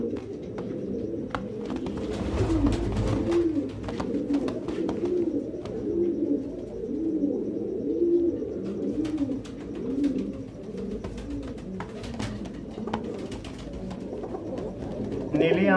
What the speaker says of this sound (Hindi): नीली आंख वाले ये कबूतर नसीब से ही देखने को मिलते हैं।